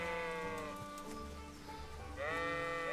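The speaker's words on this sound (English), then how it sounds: "These sheep are having PTSD from when they saw their brother get slaughtered last week." Sheep bleat in Kingdom Come: Deliverance, two wavering calls, one at the start and another near the end, over a soft ambient game soundscape.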